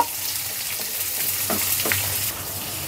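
Chopped onion and whole spices, including bay leaf, cinnamon, cardamom and cloves, sizzle in hot oil with a steady close hiss, broken by a couple of stirring scrapes and light crackles, with no voices.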